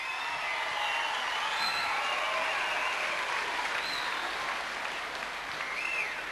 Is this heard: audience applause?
yes